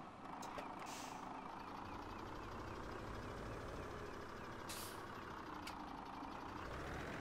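A truck's engine starts and idles in Farming Simulator 2017, a steady low rumble throughout with a couple of sharp hissing air-brake bursts and faint beeping over it.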